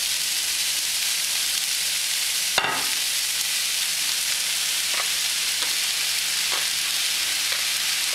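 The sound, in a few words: tofu and shiitake frying in an oiled pan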